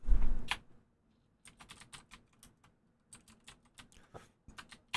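Fingers type on a computer keyboard in quick irregular bursts of soft clicking keystrokes with brief pauses between, close and quiet, with no talking.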